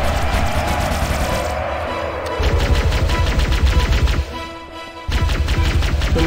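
Sustained automatic gunfire in Halo MCC, loud rapid repeating shots running almost the whole time, briefly thinning near the end before resuming, over a dense droning game soundscape.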